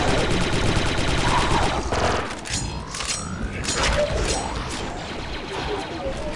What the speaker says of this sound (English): Another turret. Heavy fire.